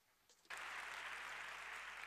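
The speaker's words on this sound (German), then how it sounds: "Eine Runde Applaus bitte" A conference audience at the 30C3 hacker congress breaks into sudden, dense applause after a brief murmur, the clapping sustained and even, filling the hall for the rest of the moment.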